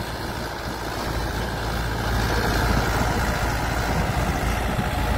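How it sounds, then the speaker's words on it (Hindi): A Mahindra 575 DI tractor engine drives a 7-foot Sonalika rotavator, a steady, loud, close diesel rumble with continuous churning texture that swells slightly midway and holds with no talk. "बहुत ही अच्छा काम कर रहा है ट्रैक्टर।"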